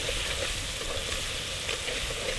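Turmeric and salt being stirred into a roasted eggplant mixture in a hot pan, a steady close sizzle with faint scraping, continuous and without talk.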